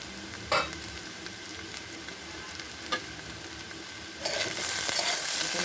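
Potatoes and onions fry in a covered pan over a high gas flame, a low steady sizzle with a few soft knocks, swelling louder near the end as the lid seems lifted.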